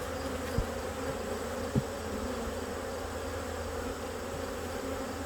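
Honeybees buzz on hive frames in a steady, close, even drone, with two brief knocks early on and no talking.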